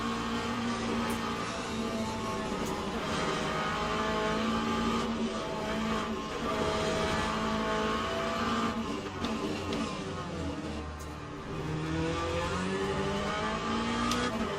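Race cars howl through a pass in the Le Mans Ultimate sim at Fuji, a McLaren alongside, engines revving and downshifting in layered whines, loud and constant with no speech.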